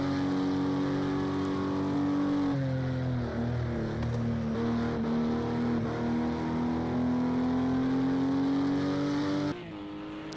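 A race car at Silverstone during a WEC endurance session sweeps past on the back straight, its engine a loud, sustained drone that shifts pitch through a gear change and pulls away at the end.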